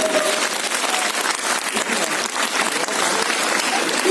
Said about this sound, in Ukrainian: Гучно, гучно аплодуємо!